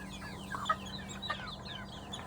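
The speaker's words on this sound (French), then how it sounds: "regardez-moi ce coq là, il a bien grandi là" A five-month-old rooster on a farm gives a few soft, fairly distant clucks over a steady low background hum, with other birds faintly chirping around it.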